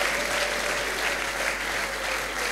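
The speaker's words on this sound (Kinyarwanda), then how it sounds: "muyakomeze ayo mashyi" A church crowd at an evangelist's gathering claps continuously, giving a dense, even wash of applause that holds steady throughout at moderate distance.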